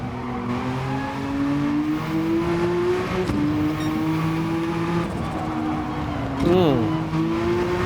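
A race car in Gran Turismo 7 pulls away from a standing start, its engine note rising steadily and dropping on an upshift, with a brief tire squeal near the end while someone talks over it.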